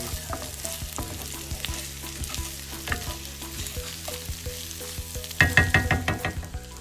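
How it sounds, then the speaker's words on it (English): Corned beef, potatoes and onions frying in a pan while being stirred: a continuous close sizzle with soft scraping strokes, then a run of louder, rhythmic scrapes near the end. "Then drop in your corned beef and potatoes. Mix everybody together to incorporate."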